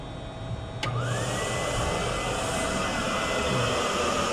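A spa air blower kicks on with a sharp click and then runs as a steady, loud whooshing hum that continues unbroken, with no voices.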